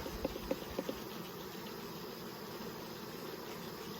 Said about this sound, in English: Look at them bees on the side there.